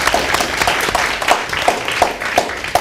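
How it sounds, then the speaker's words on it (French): A crowd at a French-language Senegalese variety broadcast claps for guests, with the clapping falling into a steady rhythmic pulse over a noisy, lively room. "Applaudissements pour eux"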